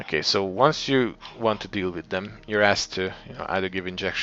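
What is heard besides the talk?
No everyday noise stands out behind the speech.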